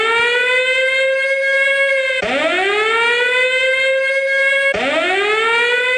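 Loud electronic siren sounded at a cricket match to signal a no ball: three rising wails, each sweeping up and holding steady, one after another with no voices.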